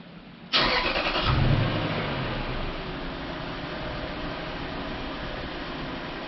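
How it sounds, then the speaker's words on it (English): A Toyota engine cranks briefly and catches with a sharp start, then settles into a steady idle heard up close, with no talk during the clip. "start the engine."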